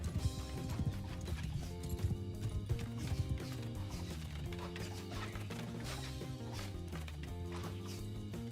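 Horses galloping during a battle in the Bannerlord video game, a dense, steady rumble of many hoofbeats with occasional whinnies, loud and continuous throughout, layered under battle noise.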